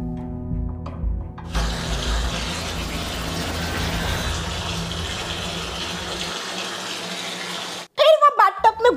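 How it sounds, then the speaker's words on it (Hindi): Tap water gushes into a bathtub, a steady loud splashing rush that starts abruptly after a quieter opening and runs for several seconds before cutting off, followed by a brief bit of sound at the end. "बाथटब में उसने पानी चालू कर दिया"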